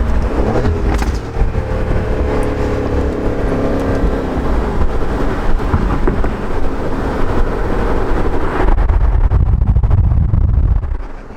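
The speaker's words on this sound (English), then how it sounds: "we're in track mode, which means get some of those. The pops." Aston Martin Vantage F1 Edition in track mode with traction control off, its exhaust roaring loud and close throughout, with crackling pops and bangs from the exhaust running over the engine note.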